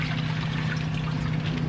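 Water pours in a steady, continuous trickling stream while a car part is rinsed off on a sunny day, close and fairly loud, with no voices.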